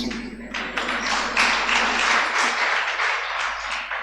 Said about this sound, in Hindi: आप अपने ऊपर ताली बजा लेते हैं